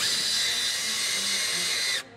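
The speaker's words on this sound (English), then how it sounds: "We're going to install the four remaining 5/16 by 1 inch countersunk Torx bolts with self-cutting threads" A power drill drives 5/16 by 1 inch countersunk Torx bolts with self-cutting threads into a UHMW plastic skid plate on a Polaris RZR 900, a steady high whir running near and loud for two seconds before stopping abruptly.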